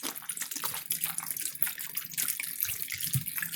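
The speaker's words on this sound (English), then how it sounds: "Then start adding some water." Bottled water poured into a pot of potatoes, a close, bright splashing gush that runs continuously with small bubbling surges, alone without talk.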